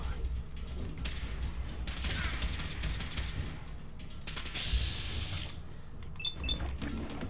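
Fallout 4 gunfire rings out as a series of sharp, mechanical shots and clanks, some in quick clusters, with a steady low rumble underneath and a few bright metallic pings near the end.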